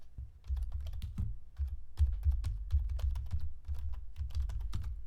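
Rapid keystrokes on a computer keyboard while a file name is typed in Inkscape, steady close clicking in quick bursts with short pauses, no talking.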